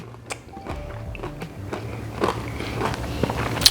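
Close crunchy bites and chewing of lemon pepper fried chicken tenders, a few sharp crackly crunches scattered over a few seconds with no talking.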